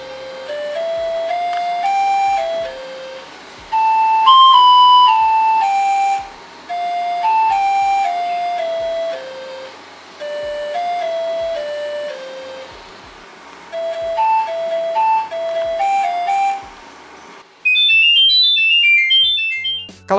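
A custom monophonic ringtone composed on an old mobile phone plays its beeping melody, a series of bright electronic notes in phrases with short gaps, loud and close, ending in a higher sparkling run.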